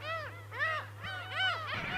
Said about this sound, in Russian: Здесь находится самая крупная в мире колония чернохвостых чаек.